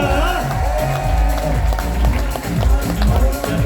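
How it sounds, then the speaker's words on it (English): A cruise ship audience at a magic show applauds and cheers steadily throughout, a dense wash of clapping with voices mixed in. "Come on, everybody. Let's make some noise for Melissa"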